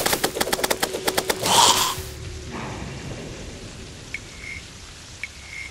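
Steady game rain from Terraria, a dense hiss of falling drops with a quick burst of rapid clicks and a whooshing effect at the start, then a continuous rain bed with two small chimes.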